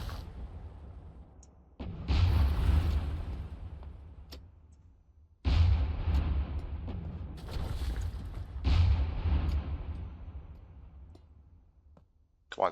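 Jagdtiger tank cannon in a Minecraft video game: three heavy booming shots, each a sudden deep blast that rumbles and slowly decays, spaced a few seconds apart with quiet gaps between and no talk.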